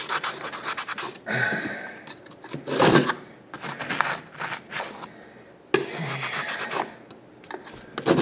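A steak knife saws through cured expanding foam: close, rough rasping strokes in irregular bursts, each a scratchy back-and-forth scrape, with short pauses between passes and no voices.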